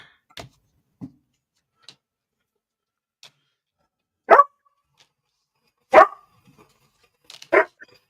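A dog barks in short sharp bursts spaced a few seconds apart, several loud distinct barks among quieter clicks and taps, with no speech.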